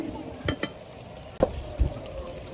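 Spices sizzle and fry in a pan for egg kofta curry, with a soft continuous crackle under occasional stirring clinks and scrapes, close and moderately quiet.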